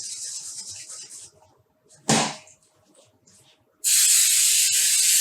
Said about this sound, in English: I'm gonna, again, add a little bit of cooking spray.